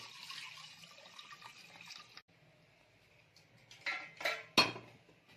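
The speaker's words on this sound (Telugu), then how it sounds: "కొన్ని నీళ్ళు వేసుకోండి" Water runs into a metal pot holding goat head pieces, followed by a few clinking knocks of utensils against cookware, fairly quiet and close.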